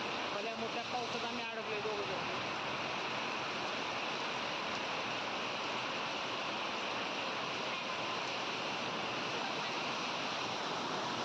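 Heavy rain coming down hard, a dense unbroken roar close by that holds steady throughout, with a brief voice-like sound near the start.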